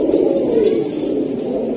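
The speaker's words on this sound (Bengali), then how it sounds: "গলা কষা কবুতর, কবুতরগুলো গলা কষা।" Giribaj high-flying pigeons at a sale produce a continuous low, rolling coo that stays close and loud throughout with no talking.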